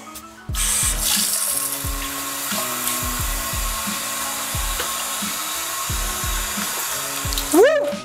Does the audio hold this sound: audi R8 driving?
no